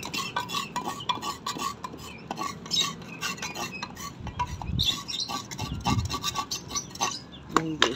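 A Siberian Husky's bowl is scrubbed clean inside with water, giving busy scraping, rubbing and light clinking of the dish, fairly close and continuous.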